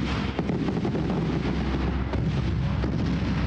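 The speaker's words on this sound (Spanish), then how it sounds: "Los fuegos artificiales son muy peligrosos." Fireworks going off in a rapid, dense series of booms and crackling bursts, loud and rumbling, with sharp individual blasts standing out over a continuous barrage.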